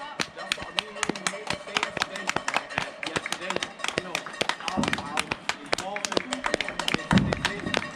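Neighbours clap for the NHS from their doorsteps, a scattered run of sharp, uneven handclaps near and far, with voices chatting over them.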